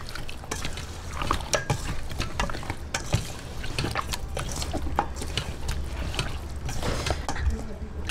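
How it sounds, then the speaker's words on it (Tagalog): Chicken pieces tossed by hand in a wet marinade of calamansi juice and fish sauce for classic crispy fried chicken, giving close, steady squelching and sloshing with scattered soft clicks of pieces moving against the bowl. "I-mix lang po natin para po ma-coating lahat yung ating chicken."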